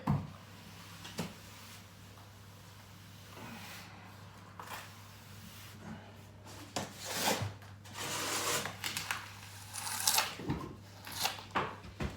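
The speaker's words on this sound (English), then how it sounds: "I do like this stuff for barns, and it rubs up lovely" Dryzone plaster scratch coat on a barn wall being rubbed up with a float, producing repeated dry scraping and rasping strokes of varying intensity, fairly quiet and close, with a low steady hum beneath.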